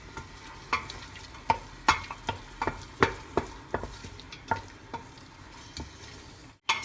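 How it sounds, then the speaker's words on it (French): Onions simmer and fry in a pan for an easy rice and vegetable dish, a soft steady sizzle broken by a series of distinct stirring scrapes and taps at a fairly even rhythm, with no talking. "je vais laisser mijoter mes oignons. Alors mes oignons commencent à mijoter."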